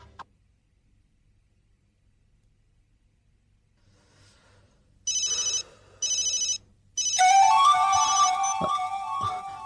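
A mobile phone ringtone sounds after a near-silent stretch: two short bright electronic bursts, then a longer, louder melodic ring that continues to the end.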